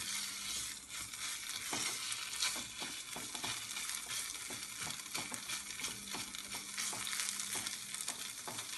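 Vermicelli toasting in a pan gives off a soft, even sizzle while a utensil stirs it, scraping and tapping lightly at an irregular pace.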